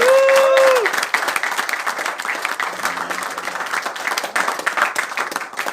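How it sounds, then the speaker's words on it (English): Loud, sustained audience applause at a fitness seminar in India, dense clapping from a large crowd, with a brief tonal sound at the start. "give them a round of applause"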